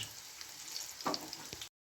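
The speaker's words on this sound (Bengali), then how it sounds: "গ্যাসটা একদম কমে দিয়েছি ভালো করে খাস্তা হওয়ার জন্যে। আমি একটুখানি হালকা করে ভাজবো।" Pumpkin leaf fritters fry gently in oil over low heat with a steady, close crackling sizzle and a couple of brief utensil taps before it cuts off.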